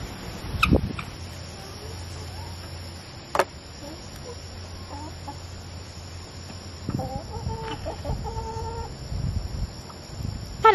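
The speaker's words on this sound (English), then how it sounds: "chickens." Chickens cluck and murmur softly in the background, with a few louder squawks and clucks later on over a steady outdoor hum.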